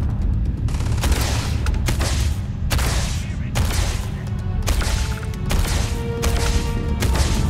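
Rapid laser weapon fire in Starfield, a modded PC game, with bursts of sharp repeated shots at a steady rhythm, loud and close, with faint talk beneath.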